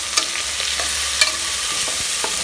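Onion and tomato sizzle and fry in a hot pan for lamb head curry while a utensil stirs them, with occasional scraping clicks over a constant hiss.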